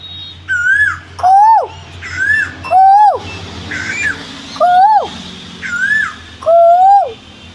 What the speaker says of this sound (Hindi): और तोते भी आए हैं और कोयल भी आई है